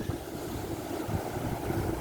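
A breeze blows across a beach by the water, a steady, low rushing wind with a rumbling undertone and no voices.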